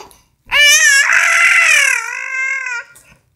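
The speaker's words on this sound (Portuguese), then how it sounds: "Outro gritão pra vovó!" A young child lets out a loud, high-pitched scream that holds for about two seconds, close and alone, with quiet before and after.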